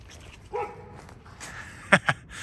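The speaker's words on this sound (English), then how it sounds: "barking because another dog's barking at her" A dog gives a couple of short, sharp barks near the end after a softer yelp, close by, with faint outdoor background.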